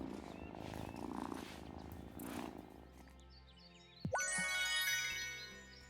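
A cat purrs in the Wylde Flowers farming game, a low steady rumble under the early part, then bright chiming, jingling game tones take over.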